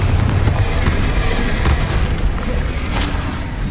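A Confringo spell in Hogwarts Legacy sets off a dense, loud booming blast with heavy rumble, continuous fiery crackle and a few sharper bursts layered on top.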